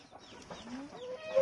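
A hen sitting under a woven basket gives soft, close clucks and low murmuring calls in a short, quiet stretch.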